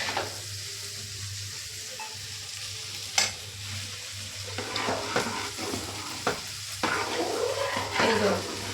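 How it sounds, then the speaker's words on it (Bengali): Potatoes frying with poppy seeds in a pan give a continuous low sizzle, broken by occasional stirring scrapes and a sharp knock, heard up close in a home kitchen with no talk. "পোস্ত ছড়িয়ে যে আলু ভাজা হচ্ছে"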